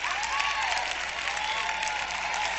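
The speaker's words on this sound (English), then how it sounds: "Come on, clap your hand." A church congregation clapping their hands during a sermon, heard as dense, loud, continuous clapping close by, with faint voices mixed in.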